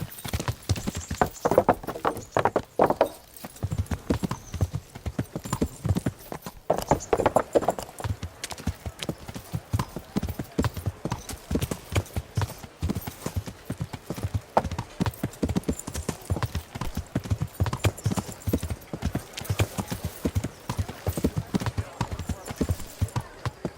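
Horse hooves clip-clop steadily in the medieval video game Kingdom Come, a rapid, even rhythm of close hoofbeats running throughout, with occasional voices over them.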